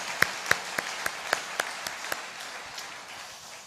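At a church prayer service, a congregation claps in a short burst: about eight distinct, evenly spaced claps stand out over softer scattered clapping, then thin out and fade.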